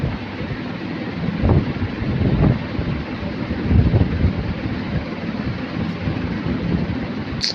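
A boat moving on water in a Minecraft-style building game, with a steady rushing, wind-like wash under a few soft low thumps that runs throughout at fairly high level.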